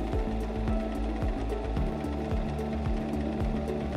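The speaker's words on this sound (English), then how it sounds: "To sew that, we'll leave the stitch width at 5, but turn the stitch length to the blue S to sew." A Singer M3330 sewing machine runs a honeycomb stitch, a steady close mechanical hum with fast, evenly repeating needle strokes that continue without pause.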